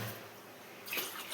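Water is poured into a pot of old rice for bagara rice, a short soft splashing pour that swells briefly near the end.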